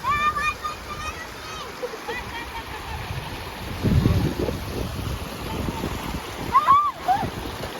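Water flows steadily with splashes at a crowded village pond used for washing clothes, swollen after heavy rain. Voices talk over the continuous rushing noise, which swells briefly partway through.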